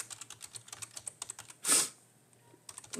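Quiet, rapid keystrokes tap on a computer keyboard in an irregular rhythm, broken by one louder key press or click in the middle before the typing resumes.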